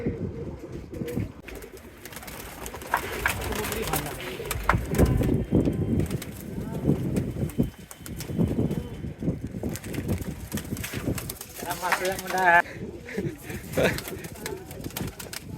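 Pigeons cooing and flapping their wings close by, mixed with steady background noise and people talking over them, with a brief burst of louder, warbling calls near the end.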